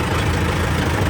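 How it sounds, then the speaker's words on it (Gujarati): A tractor engine runs steadily at close range in a village, its low, rumbling drone holding a constant level throughout the short moment. "આમો ટ્રેક્ટર આવે છે."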